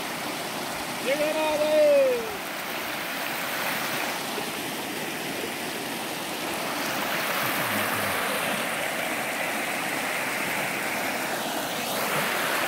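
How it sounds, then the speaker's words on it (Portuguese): A swollen river rushes loudly and steadily past a fishing spot, a broad continuous roar of churning water, with someone speaking briefly over it near the start. "é muita água mesmo."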